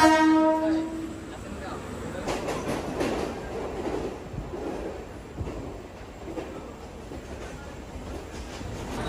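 A train horn sounds briefly at the start, followed by the rumble of rail cars and busy station ambience with distant voices at CST station, Mumbai.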